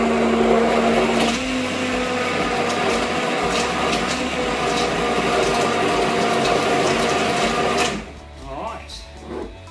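An electric mixer whirs steadily and close while it blends vanilla into cheesecake batter. The mechanical hum runs for several seconds, then cuts off near the end, and a voice talks over it.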